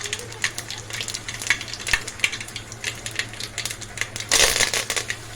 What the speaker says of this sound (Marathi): आपण राई टाकून घेऊया राई तडतडली की जिरे टाकूया